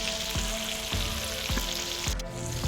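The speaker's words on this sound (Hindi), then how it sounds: "अब तकरीबन ये डीप फ्राई हो चुकी है" Chira fish deep-frying in hot oil at home, a steady close crackling sizzle with a few soft low knocks, no voices.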